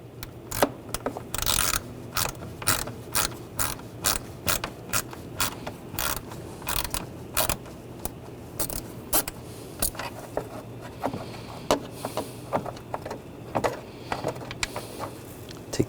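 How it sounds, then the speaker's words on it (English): A ratchet with a T25 socket turns a screw out on a Volkswagen Tiguan during thermostat housing work, giving a steady series of close, rhythmic clicking sweeps repeated many times, with no talking. "Now I'm going to use a T25 socket or bit"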